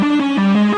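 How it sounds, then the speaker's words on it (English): DOOM-style metal music played through a pedal board effects chain with Grit distortion, giving a loud, sustained, heavily distorted tone that moves between a few low notes in a brief riff. "Turn on the pedal board, and we get..."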